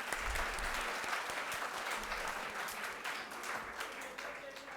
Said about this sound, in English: Clap for that.